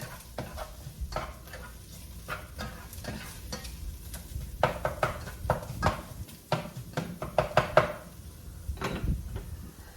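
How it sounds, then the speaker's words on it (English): TVP fries in oil with a splash of broth, crackling and sizzling as a utensil stirs and scrapes the pan in quick, irregular strokes, with close knocks against the cookware. "I'm gonna make that crispy with the oil and with a little bit of the broth"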